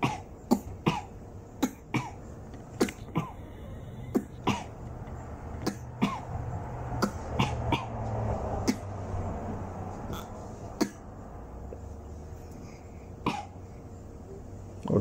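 A young child imitates an adult's cough, giving a string of short, sharp cough-like bursts at irregular intervals, some in quick pairs, close to the microphone with a low hum underneath.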